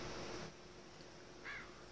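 A crow in The Walking Dead video game gives a single short caw, faint and distant, set against a steady background hum with no talking.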